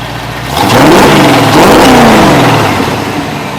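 A V8 engine in a Fiero-based Lamborghini replica kit car (LT1) revs hard with a deep, throaty roar, rising and falling in pitch over a few seconds, close by and without talk.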